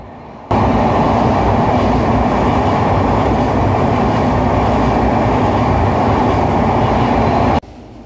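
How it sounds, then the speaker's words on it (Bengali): A train runs at top speed over the Padma Bridge on the Rajshahi to Dhaka route, with a loud, steady rumbling roar and wheel clatter that starts abruptly and holds without a break until it cuts off near the end. "পদ্মা সেতুর উপরে ট্রেন সর্বোচ্চ গতিবেগে চলে।"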